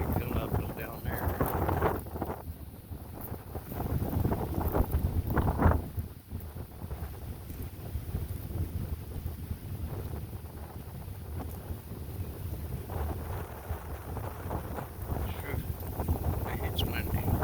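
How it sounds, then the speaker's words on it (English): Wind blows through a forest near a bluff trail in Shawnee Forest, southern Illinois, a steady rushing roar with mic buffeting that swells and dips, with someone talking at times over it. "It's windy."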